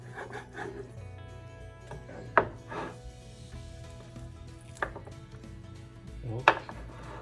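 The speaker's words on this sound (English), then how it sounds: "So the easiest way to cut it, flip your ribs up and cut right in between that bone." A knife cuts through oven-baked ribs between the bones on a board, giving low steady rubbing and sawing with three sharp knocks spaced a few seconds apart, close and without speech.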